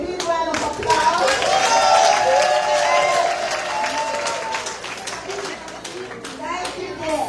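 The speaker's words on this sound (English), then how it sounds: "we all give her a big round of applause" An audience at a formal gathering with a keynote address by a first lady in New Jersey applauds steadily, a dense wash of clapping that swells and then slowly tapers, with children's voices mixed in.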